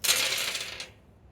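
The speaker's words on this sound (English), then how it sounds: "Take all the dice, roll them all." Dice for the Royal Game of Ur board game tossed and rattling together in one short burst, a bright clatter that fades after about a second.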